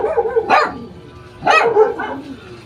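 Two short, sharp barks from a dog come about a second apart against quiet household surroundings, fairly close.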